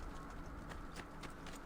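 Horse hooves clip-clop in the video game Assassin's Creed II, a run of distinct sharp knocks at an uneven trot over a steady low background hum, without speech.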